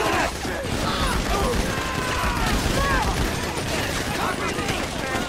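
Sustained machine gun fire from a GTA 5 firefight, dense and continuous bursts with shots and mechanical clatter filling the whole stretch.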